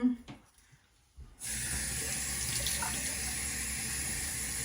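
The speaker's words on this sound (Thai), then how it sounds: "ล้างนิดนึง" A kitchen tap runs water to rinse something, a steady continuous gush starting after a short quiet pause and holding loud to the end, preceded by faint handling noise.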